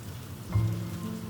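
Steady rain falls outside on a rainy day at a horse stable, a soft, constant hiss of drops heard alone for a brief moment.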